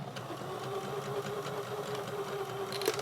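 A sewing machine stitches the seam of a fabric card deck holder, a steady, quiet whirring hum running unbroken from start to finish.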